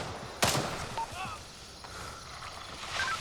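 In Gray Zone Warfare, a shooter on the floor above fires a sharp shot followed by a few fainter pops, with voices talking around it.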